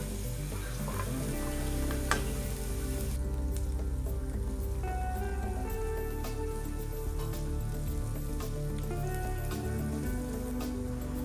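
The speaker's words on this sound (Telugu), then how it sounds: "ఇందులో మనం చిన్నగా కట్ చేసుకున్న ఉల్లిపాయ ముక్కలు వేసుకొని కొంచెం సేపు వేపుకోవాలండి" Chopped onions frying in hot oil, a steady soft sizzle and crackle that runs unbroken and fairly quiet, close by, with no talk.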